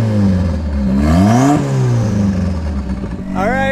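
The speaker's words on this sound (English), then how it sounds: "The exhaust is insane." A turbocharged offroad Mazda Miata revs loudly up close, the engine sweeping up and back down with a booming exhaust, then a quick second rise at the end.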